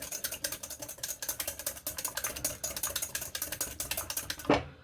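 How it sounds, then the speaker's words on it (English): A small whisk beats egg yolks in a bowl with rapid, steady clicking strokes that run close and continuous, ending in a louder scrape. "Now we're just going to whisk our"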